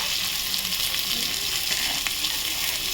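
Onion sizzles and fries in hot oil with a dried chili, a steady close-up crackle and hiss that continues throughout with no talk.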